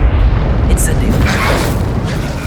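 The Incendio fire spell in the Hogwarts Legacy video game erupts as a loud, close, sustained booming blast with a roaring rumble that fills the whole moment, while a voice is also present.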